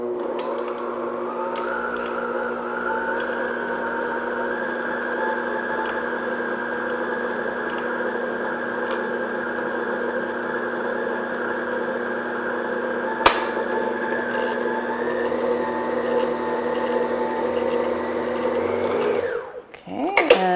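An electric hand mixer runs steadily at low speed, beating flour into cookie batter with a constant whirring motor hum that holds for nearly the whole stretch before cutting off near the end.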